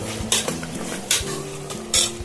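A spoon or ladle scrapes and knocks against a pot as coriander is stirred into vegetable pulao, with three sharp clanks standing out over a soft continuous rustle of mixing and a faint sizzle.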